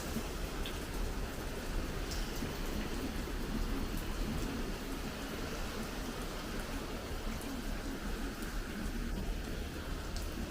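Steady, heavy rain falls on surfaces outdoors, a continuous even hiss with faint scattered drop impacts and no voices.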